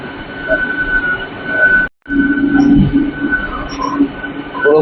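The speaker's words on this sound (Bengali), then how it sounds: "এটা হচ্ছে পাঁশকুড়া লোকাল 178-529 হাওড়া টু পাঁশকুড়া" A Howrah to Panskura local train runs past with a steady rumble and rail clatter, a brief gap midway, then wheel noise and faint squeals continuing; no talk over it.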